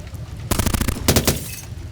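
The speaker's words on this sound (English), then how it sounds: "The gunfire peppered the wall behind Mal and he hit the ground, spreading himself flat." A burst of gunfire plays as a sound effect in a ghost-story audio drama, with rapid cracks peppering in a loud flurry for about a second, a short gap, then a second volley, with no voices.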